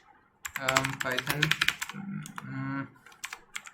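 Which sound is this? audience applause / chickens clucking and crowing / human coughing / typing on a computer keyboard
typing on a computer keyboard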